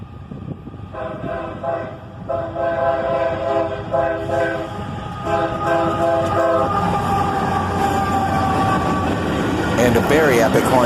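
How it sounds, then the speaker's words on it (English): A single AC44CW locomotive sounds a long, loud horn sequence while pulling a southbound manifest train, the chords sounding in repeated blasts over steady rumbling and rail noise that builds toward the end. "a very epic horn show from that engineer as a single AC44CW pulls this manifest train southbound"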